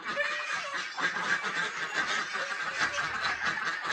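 Large ducks or geese in a village yard keep up a continuous run of loud nasal honks and quacks, several birds overlapping close by with no pause.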